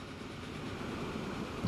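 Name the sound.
coal train running on rails in Transport Fever video game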